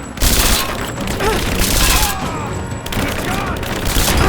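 Sustained bursts of gunfire from a firefight in the video game Rise of the Tomb Raider, loud and dense, with rapid overlapping shots and booms continuing throughout and short lulls in between.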